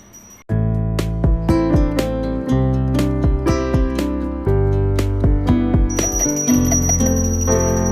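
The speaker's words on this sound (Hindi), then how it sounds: "आपको घंटी की आवाज़ तो आ ही रही होगी।" A small metal hand bell rings steadily and rapidly during a Hindu home prayer, bright and close, with sustained ringing overtones over a constant low hum.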